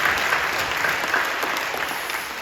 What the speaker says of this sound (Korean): 박수를 격려해 주시기 바랍니다